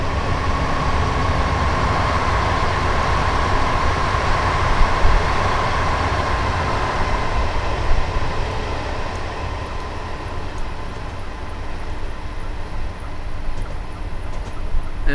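London Underground train pulling out of Finchley Road Station in the Train Simulator 2018 game, a steady rumbling roll with wheel and motor drone that holds evenly loud throughout, no talk.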